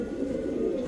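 Two high-flyer Giribaz pigeons give a steady, low, continuous cooing that stays close and moderately loud for under a second, with no talk over it.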